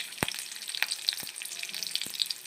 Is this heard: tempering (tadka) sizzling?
yes